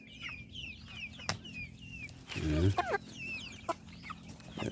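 Large Shamo chickens clucking outdoors in a pen, with repeated short clucks and one louder burst of calls in the middle, over a steady background hum and some chirping birds.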